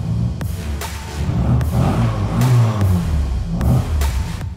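A vintage MG car engine revs repeatedly, deep and bassy, with sharp throttle blips rising over a steady low rumble, loud and close.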